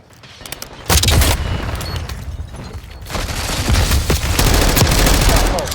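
Dense gunfire and a Semtex grenade blast ring out in a Call of Duty Black Ops 6 multiplayer match, with rapid loud shots and heavy booms building to a continuous roar of combat.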